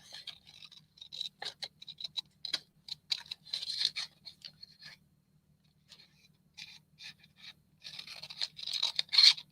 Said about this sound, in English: And we'll just do a little fussy cutting.